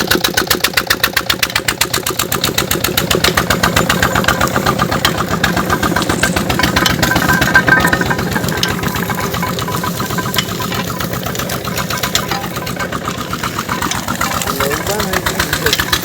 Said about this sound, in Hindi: ये इंजन लगा हुआ है इसमें।